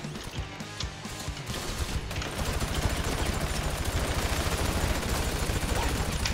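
Rapid bursts of automatic gunfire in the video game GTA V, dense and continuous for most of the stretch, growing louder after a quieter start, with voices talking over the shooting.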